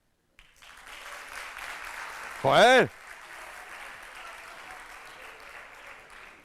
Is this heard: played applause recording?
yes